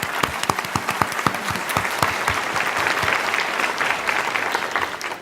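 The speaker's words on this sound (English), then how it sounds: "let's give a warm round of applause to welcome Dr." An audience gives a warm round of applause to welcome a speaker, starting with scattered sharp claps that quickly swell into steady, full clapping before easing off.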